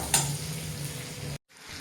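Boiled potatoes fry in a pan for an egg biryani, giving a steady close sizzle with a brief stir, then a sudden cutoff and a quick return of the frying hiss.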